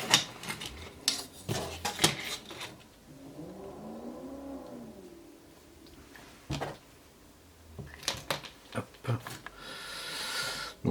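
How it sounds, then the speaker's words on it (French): Cutting a first piece of material for the interior cabin of a BSPP fire brigade PST vehicle brings sharp clicks and scraping handling noises, with a brief rising and falling whir in the middle. "je vais couper un premier morceau"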